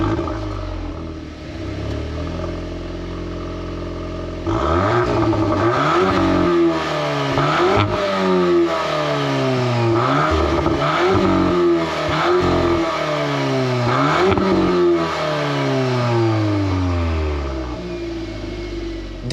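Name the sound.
2023 Volkswagen Golf R engine starting and revving, exhaust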